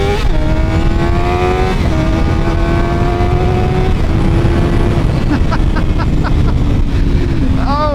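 A Suzuki GSX-R 750 four-cylinder motorcycle pulls hard through rising gears, its loud, close engine note climbing and dropping at each shift with continuous wind roar over it.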